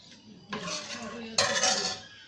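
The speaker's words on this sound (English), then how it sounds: "Now mix it well." A spoon stirs cumin powder and sambar masala into sambar in a metal pot, giving two bursts of scraping, clinking metal on metal close by, separated by a short pause.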